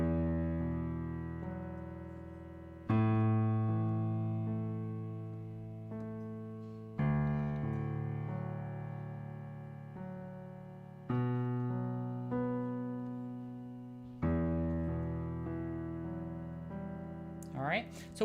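Piano bass notes struck with the little finger ring out loudly over softer upper chord tones, a series of about five sustained chords each decaying slowly before the next attack, close and clear.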